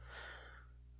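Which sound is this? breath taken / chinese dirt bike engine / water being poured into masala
breath taken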